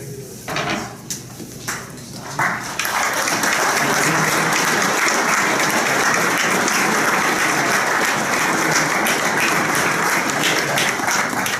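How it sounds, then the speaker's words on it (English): Loud, dense applause from an audience at a police awards ceremony, starting with a few scattered claps and quickly swelling into sustained, steady clapping that fills the room for about nine seconds. "Let's have a round of applause for everybody."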